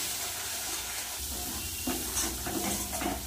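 Spice paste sautéing in oil in a home kitchen pan, a continuous low sizzle and hiss with intermittent scraping stir strokes from a spatula, close and fairly quiet, no voices.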